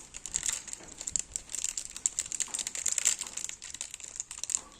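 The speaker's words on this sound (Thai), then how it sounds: "เดี๋ยวผมแกะให้ดู" Plastic packaging around a set of car bumper clips and screws gets unwrapped by hand, a close, busy run of crinkling and crackling bursts with irregular rhythm and no speech.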